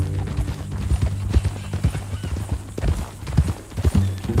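Horse hooves clip-clop in a steady, close rhythm during a ride in Red Dead Redemption 2, with faint speech in the background.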